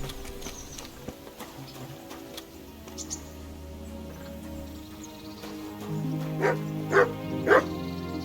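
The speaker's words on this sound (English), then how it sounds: "watch out for the executioner and his hounds" Hounds belonging to an executioner in Kingdom Come: Deliverance bark in three sharp barks near the end, following a quieter stretch of ambient game sound.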